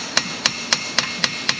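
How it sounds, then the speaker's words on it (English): Six evenly spaced hammer taps ring out sharply against the axle of a 2015 Cadillac SRX, steady and close, over a low background hum. "Let's tap that out again."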